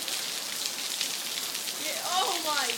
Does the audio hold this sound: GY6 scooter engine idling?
no